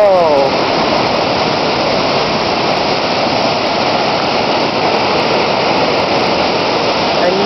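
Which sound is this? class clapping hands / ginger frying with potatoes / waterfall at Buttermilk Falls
waterfall at Buttermilk Falls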